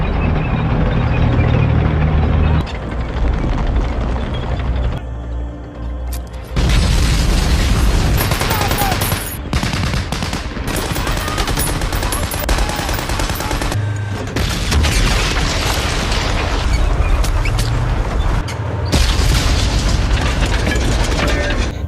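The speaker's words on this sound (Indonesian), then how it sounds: "ketika ledakan terjadi, pertempuran pun dimulai" Explosions open a battle scene in a war sniper film, with dense, continuous booms and gunfire rumbling loud and unbroken for over twenty seconds, no voices standing out.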